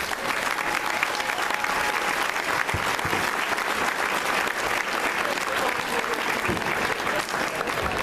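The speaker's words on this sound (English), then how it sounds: "the rest of us give a round of applause" A crowd at a school senior night applauds the senior class, dense continuous clapping that stays loud and even from start to finish, with some crowd noise mixed in.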